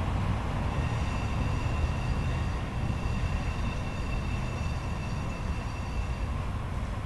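Train rolling past near Duboce Park in San Francisco, a steady, loud rumble with faint high whine, continuous throughout without pauses and no voices.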